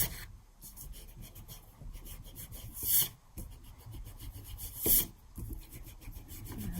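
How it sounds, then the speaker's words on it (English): An eraser rubs pencil lines off paper in quick scratchy back-and-forth strokes, close and fairly quiet, with two sharper brushing swipes partway through. "erase any major pencil lines that I see"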